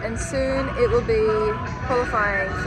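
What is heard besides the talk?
No everyday noises stand out.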